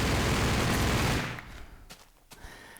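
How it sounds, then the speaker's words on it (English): A minigun from a Minecraft guns mod fires a dense, rapid burst of shots at close range, then abruptly stops, leaving faint scattered clicks and game noises. "But they're not match enough for a minigun. We're gonna tear through them."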